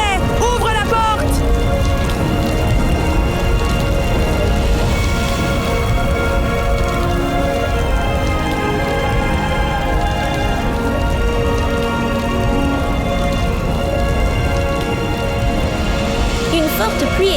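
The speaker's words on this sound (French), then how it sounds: "Une forte pluie est tombée" A heavy downpour falls in a loud, unbroken hiss of rain on surfaces, up close and steady across the whole stretch, with faint tonal music layered underneath.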